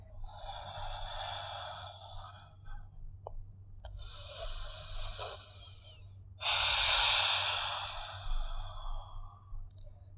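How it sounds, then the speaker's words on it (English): Slow, deep breaths drawn in and out through the nose during a relaxing yoga session, each long inhale and exhale close and clear with quiet gaps between them. "Breathing in and out through the nostrils"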